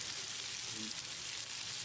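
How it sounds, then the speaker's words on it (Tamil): Two large onions, sliced lengthwise, fry in a pan with cumin, curry leaves and split green chillies for a paneer masala gravy. They give a steady, soft sizzle with faint crackle throughout. "வெங்காயத்தை செவந்து வர்ற அளவுக்கு வதக்கிடலாம்"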